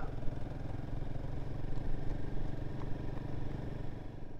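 A Royal Enfield Guerrilla 450 motorcycle engine idles with a low, uneven rumbling putter, steady and moderately close, with no talking over it.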